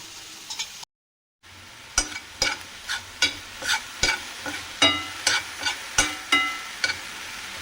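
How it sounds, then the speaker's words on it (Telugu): Steamed broccoli being stir-fried with sauce in a pan: a soft sizzle under a run of rhythmic utensil scrapes and clinks, about a dozen sharp strokes after a brief silent gap, close and clear. "ఫ్లేవర్స్ అన్ని దానికి పట్టేలాగా కలుపుకుందాం."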